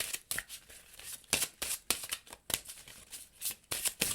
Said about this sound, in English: And we'll start shuffling this little chunk.